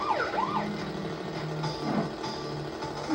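Police car siren in the video game Crash Bandicoot Warped, wailing in rising and falling sweeps over a steady engine drone and game noise, fairly close and continuous.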